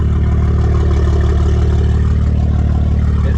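A BMW G80 M3 with a full catback exhaust and catless downpipes idles with a steady, deep, loud rumble, a continuous low throb heard up close without any voices.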